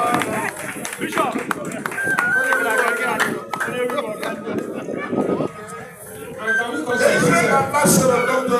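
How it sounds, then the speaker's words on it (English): A crowd at a traditional ruler's peace ambassador honours ceremony claps and cheers, a busy mix of hand claps, shuffling and excited voices, with a brief dip before the noise swells again. "A round of applause, please."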